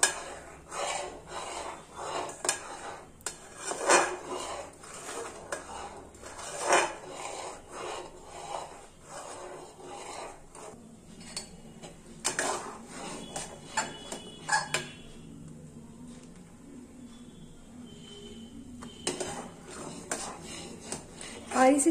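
Thick mashed potato papad mixture cooking in an open pan on high flame, stirred continuously with a spoon, giving repeated close scraping, rubbing and clinking against the metal in an irregular rhythm.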